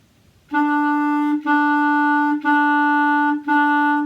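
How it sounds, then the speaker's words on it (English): A clarinet plays one steady pitch in four tongued notes, each cleanly separated by a short break, loud and close. "now let's look at tonguing on the clarinet"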